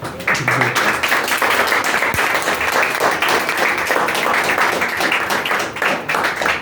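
Loud, sustained applause from a hall full of students clapping together, a dense, steady roar of hand claps that holds at the same level throughout with no talking over it.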